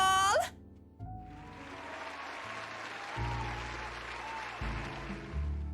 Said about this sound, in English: one can excuse my smug grin as cheers and applause rise among the pub's patrons